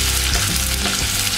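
Chopped onions fry loudly in oil in a pan for a fish curry, a dense steady sizzle filling the whole moment with a faint stir partway through.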